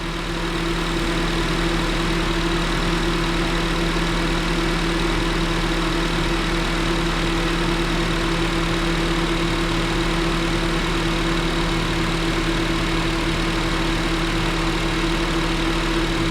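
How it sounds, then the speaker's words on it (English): A car's air-conditioning compressor runs while the engine idles, a steady continuous mechanical drone with constant tones that stays level throughout, close and loud, with no talk. "Right there, you just heard our compressor kick on."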